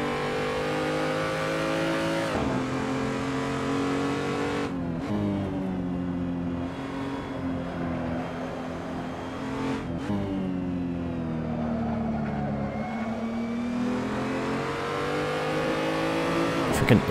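BMW M235i engine in the Assetto Corsa racing game on the Nurburgring: a turbocharged engine revving up through the gears in rising sweeps, with sharp drops at each shift, loud and close for the whole lap stretch.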